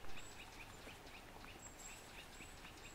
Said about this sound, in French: On entend un petit oiseau chanter.